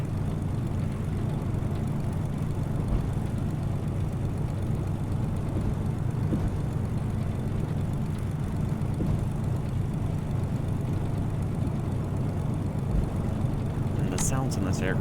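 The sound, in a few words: small prop plane taxiing in a flight simulator video game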